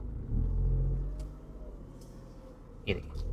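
A car engine accelerating lightly while reversing into a narrow space: a low, brief rumble that swells early and fades to idle, with a short burst of voice near the end.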